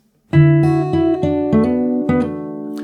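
Fingerstyle acoustic guitar plays a short fill: a run of about six plucked notes over a ringing low string, clean and close, with no speech.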